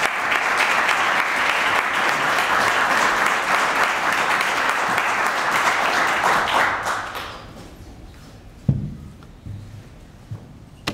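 An audience applauds warmly to welcome speaker Edward Erler, steady dense clapping from a crowded hall that holds for about seven seconds, then thins and fades, leaving a few knocks and room noise.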